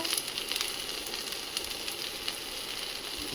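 Ground spices fry in a pan with a dense, even sizzle and faint scraping as they are stirred, close and fairly quiet, with no talking.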